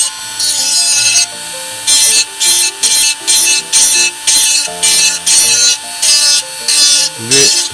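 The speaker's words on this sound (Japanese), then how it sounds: "様子を見ながらこう削っていきましょう" A plastic model car body from an Aoshima Celsior kit is shaved and filed by hand in quick, rhythmic rasping strokes, about a dozen close scraping bursts over soft background music.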